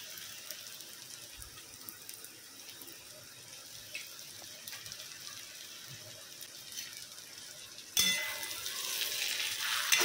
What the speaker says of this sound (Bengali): তো এর মধ্যে মাংসটা দিয়ে দেবো, যেটা ম্যারিনেট করা ছিল সেইটা দিয়ে আমি একটু মাংসটা কষে নেবো।